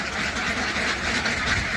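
A group of ducks quack continuously and close by while being fed beetle larvae, with overlapping, busy calls throughout.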